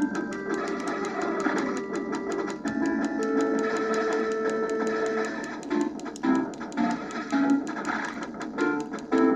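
Upbeat chiptune soundtrack from Gyruss in the Konami Arcade Collection on Game Boy Advance, a steady melody with bright tones and sound effects throughout, loud and continuous with no speech.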